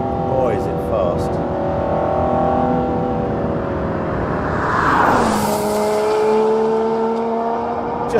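Aston Martin One-77 V12 supercar accelerating hard on a not-quite-dry track, engine note rising through gears and sweeping past loudly, with someone talking over it.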